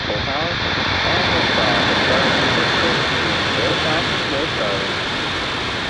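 Rocket engines igniting at launch fill the air with a loud, steady, broadband roar that holds for the whole stretch, while a faint voice sits beneath the rumble.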